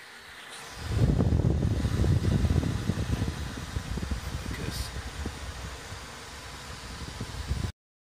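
3D printer cooling fans running in a workshop during a CNC plasma cutting table build, a steady close whooshing hum that starts after a quiet second, with faint clicks and rattles, then cuts off abruptly.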